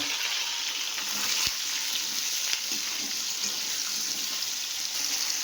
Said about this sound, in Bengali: এটা একটু লাল লাল করে ভেজে নেব